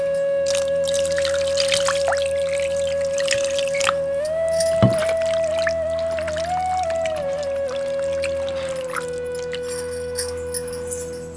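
Water pours and trickles steadily over chicken being washed, with drips and small splashes over a constant humming tone in the background.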